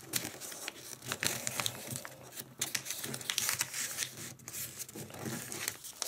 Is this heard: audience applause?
no